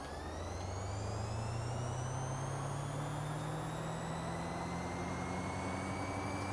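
An electric car in Forza Horizon 3, heard from the cockpit, gives a steady rising whine and hum as it accelerates, with road noise and no voices.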